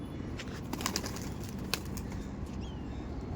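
Giribaj pigeons are let go, their wings flapping in a few soft, quick bursts over a faint, hissy background, fairly distant and quiet, with no voices.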